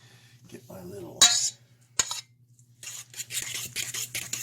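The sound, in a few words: fork mixing eggs, pumpkin and spice mix in a bowl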